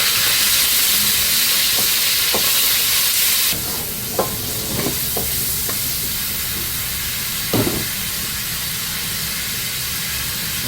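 Pork belly slices frying in a wok over medium-high heat, a loud steady sizzle and hiss that eases slightly partway through, with a few scraping stirs of the spatula and no talking.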